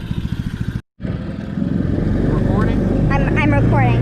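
A small mini Jeep engine chugs rhythmically, cuts out briefly, then revs up and pulls off steadily in first gear, loud and close, with a voice talking over it.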